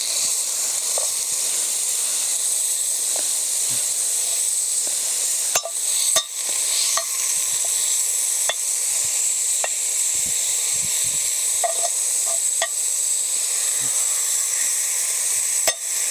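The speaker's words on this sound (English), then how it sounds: "And I'm going to give this a stir." Taco salad meat cooks in a Dutch oven over an open fire, a steady hissing sizzle with occasional clicks and scrapes of stirring, fairly loud and close, with no voices.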